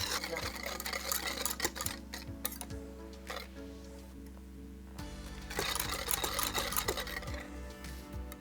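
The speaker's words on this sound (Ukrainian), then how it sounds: "За допомогою вінчика все добре перемішуємо." A whisk scrapes and clicks steadily against the side of a pot, stirring a cocoa mixture in a fast rhythm, with a low mechanical hum underneath and a few pauses.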